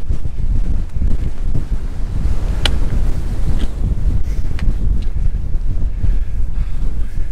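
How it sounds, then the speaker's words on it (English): Strong, loud wind blasting across the microphone on an exposed mountain ridge in Snowdonia, a constant heavy roar and buffeting with low rumbling gusts throughout and no voices. "I don't know if you can hear me with the wind"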